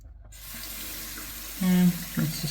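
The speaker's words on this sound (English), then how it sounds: "And rinse the stone off." A tap runs water to rinse a Nakayama Maruka sharpening stone used for straight razor honing, a steady splashing flow with brief louder gushes toward the end.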